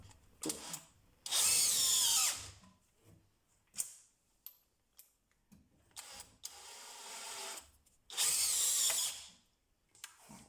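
A DeWalt DCD996N cordless drill at full power drives screws into a wooden beam, giving three loud whirring bursts separated by quieter clicks and handling noises.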